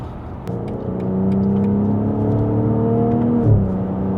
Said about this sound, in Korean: 이거 BMW 6기통은 요 질감이랑 엔진 사운드